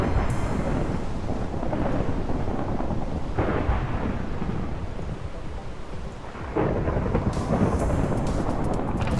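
Thunder rumbles through a storm in the video game Minecraft: a loud, continuous roll with heavy, steady rain underneath and a fresh crack near the end, with no talking.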